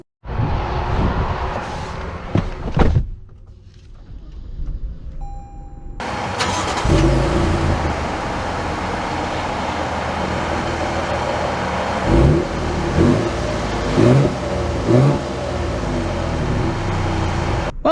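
A 2022 Toyota Tundra SR5 TRD Off-Road truck starts and pulls away, its engine note rising into a steady, fairly loud drive that holds for the rest of the stretch after a brief quiet moment.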